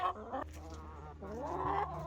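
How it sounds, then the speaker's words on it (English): Farm chickens clucking close by at an old farmhouse gate, a run of throaty, wavering clucks and drawn-out calls over a low background hum, with no talking. "You're a nice looking chicken, aren't you?"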